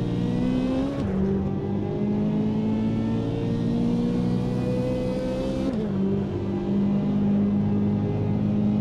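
A Chevrolet Corvette Z06 in the racing game Automobilista 2 accelerating hard, its engine revving up loud and close. The pitch drops sharply at two gear shifts, then climbs again, with no voices.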